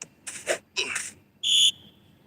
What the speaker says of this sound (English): here comes the final whistle